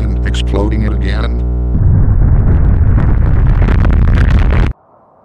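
Explosion sound effect: a loud, close rumbling blast bursting in after a brief synthetic tone, roaring for about three seconds before cutting off sharply into a quiet tail.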